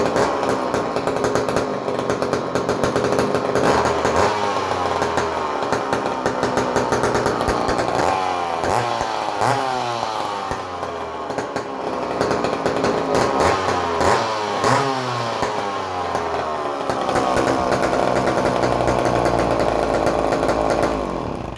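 A McCulloch Mac 10-10 chainsaw engine runs loud and close, holding a steady rough drone and rising several times into high revs before dropping back.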